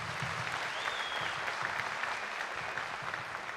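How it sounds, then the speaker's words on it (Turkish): A studio audience on a Turkish television contest show applauds both contestants, a steady, even wash of many hands clapping that fills the room throughout. "her iki yarışmacımız için de büyük bir alkış sizlerden rica ediyorum"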